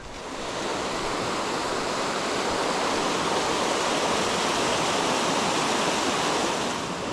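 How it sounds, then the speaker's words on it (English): The new channel of the South Mowich River, joining the North Mowich along a hiking trail, rushes loudly and steadily in a dense, unbroken roar of flowing water with no voices throughout. "that's the new South Mowich channel joining up with the North Mowich"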